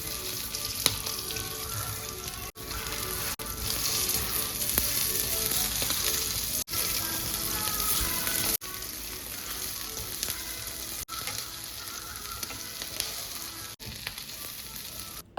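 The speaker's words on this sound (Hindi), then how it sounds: "कबाब जो थे वो प्रॉपर्ली फ्राई हो गए थे" Kebabs fry in a pan with a loud, dense, continuous sizzle that cuts out abruptly several times, with faint watery hiss underneath.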